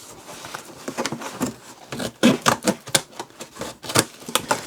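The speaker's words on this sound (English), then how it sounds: "Something else I wanted to test was the ability of this to cut through cardboard." Combo utility snips chomp through cardboard in a rapid series of crisp snips and crunches, close and dry, with uneven rhythm and no talk.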